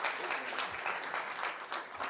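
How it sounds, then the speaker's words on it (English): Applause from the audience at a city council meeting for a long-serving police chaplain, a steady wash of many hands clapping, moderately distant and unbroken. "I think that deserves a round of applause"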